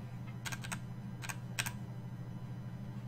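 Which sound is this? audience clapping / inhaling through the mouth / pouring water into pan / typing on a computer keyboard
typing on a computer keyboard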